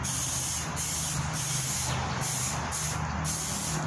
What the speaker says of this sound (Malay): Bahagian dalam pun saya spray juga, buat benda yang sama